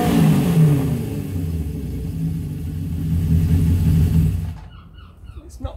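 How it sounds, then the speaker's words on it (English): A 1969-era Honda CB750 K0 with an aftermarket four-into-one or four-into-two exhaust rumbles and revs while riding, a close, throaty engine note rising and falling before cutting off abruptly. "It's not the quietest exhaust, but I think it sounds quite good for what it is."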